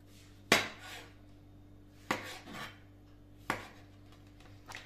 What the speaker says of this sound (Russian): Так мы режем все помидоры.